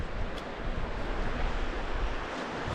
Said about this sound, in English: It's a bit windy, but we're making the most of it.